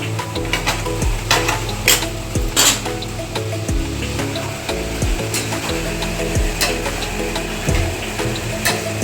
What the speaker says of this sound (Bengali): খুব সাবধানে আমরা একটু নাড়াচাড়া করছি, আলুগুলোর সাথে মশলাগুলো মাখিয়ে নিচ্ছি।